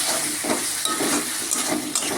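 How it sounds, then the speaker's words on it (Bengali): Ginger garlic paste and chopped tomato sautéing in a pan for a spicy dried fish curry, a continuous loud sizzle with soft scraping stirs at intervals. "সাথে দেব আদা রসুন বাটা। আর দেব টমেটো কুচি। সব একবার কষিয়ে নেব।"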